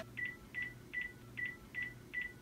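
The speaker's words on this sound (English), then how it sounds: "it's gonna show up on my iPhone and ring on the Rotary phone" A phone on a VoIP line gives an incoming-call ring in six evenly spaced short electronic chirps over a low steady hum, fairly faint and with no talk.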